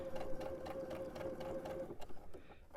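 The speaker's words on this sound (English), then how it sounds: "using my 1/4 inch foot, I'm going to stitch." Sewing machine stitching a quilt block with a quarter-inch presser foot, a close steady motor whir with a rapid needle rattle that runs for about two seconds, then slows and stops.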